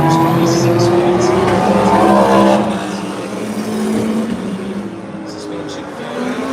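Race cars roar around the circuit at the Rolex 24 at Daytona, a continuous loud engine drone with shifting pitch as cars pass, under steady commentator talk.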